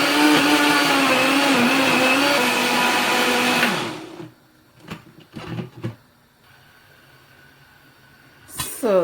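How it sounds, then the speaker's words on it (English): A blender whirs loudly for about four seconds as it purees onion and tomato, then cuts off, followed by a few knocks and clatters and a brief restart near the end. "I'm going to blend this."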